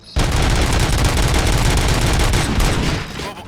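Loud, sustained gunfire in RoboCop: Rogue City, a dense run of rapid shots and booms that carries on for several seconds with no let-up before trailing off slightly at the end.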